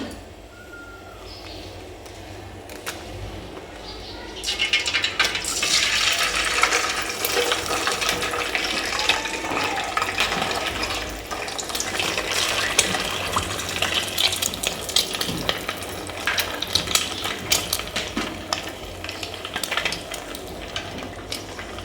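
Eggs drop into heated oil for an onion egg curry. After a quiet start, a loud, crackling sizzle bursts in and keeps spitting and popping steadily up close.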